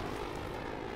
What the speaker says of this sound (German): Ach, der Jet.